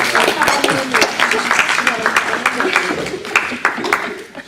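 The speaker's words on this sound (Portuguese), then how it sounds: "Vamos dar palmas a elas." A church congregation claps for women who answered a question correctly, with scattered, uneven hand claps close by over a few seconds, mixed with a voice talking.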